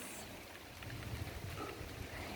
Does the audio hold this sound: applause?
no